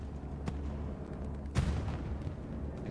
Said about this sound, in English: Something blew up over here.